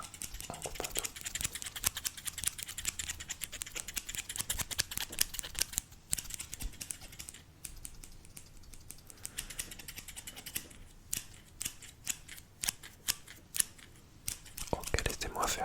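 Scissors snip rapidly and closely during an ASMR haircut roleplay, a dense run of crisp clicks over soft whispered French talk.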